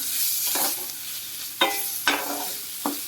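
Masala stirred in hot oil in a pan for a plantain curry: a soft sizzling bed punctuated by three or four distinct scraping spatula strokes, close and fairly loud, with no talk.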